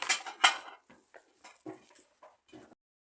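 Clinking and scraping of a utensil against a bowl while stirring minced potato with an egg, a few quick strokes followed by softer intermittent taps, close and fairly quiet.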